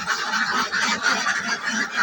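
Farm ducks call in a dense, close chorus of overlapping honking quacks that continues without a break.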